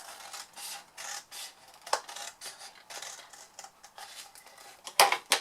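Scissors snip through paper craft panels for a Christmas cutlery holder, a quiet series of short rhythmic cuts and rustles, close and alone, ending in a sharper crisp snip.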